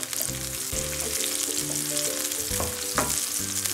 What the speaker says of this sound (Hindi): इसमें हम लोग सबसे पहले ऐड करेंगे हाफ कप चॉप्ड अनियन, उतना ही हमने इसको पकाना है कि ये ट्रांसपेरेंट हो जाए।